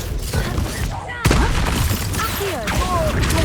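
Confringo fire-spell blasts and combat in Hogwarts Legacy, a crackling fusillade of sharp impacts with a loud burst about a third of the way in, followed by whooshing sweeps and busy battle noise under a voice.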